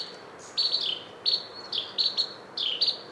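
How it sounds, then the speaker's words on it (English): Carolina wrens calling in woodland, a series of bright, close, repeated chirps in quick rhythmic bursts over a faint outdoor hiss. "Oh, there's two Carolina wrens here."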